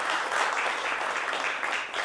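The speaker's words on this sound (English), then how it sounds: "Ladies and gentlemen, let the claps continue." Steady audience applause at a procurement leaders summit, a dense, even wash of many hands clapping that holds at the same level throughout and tapers slightly at the end.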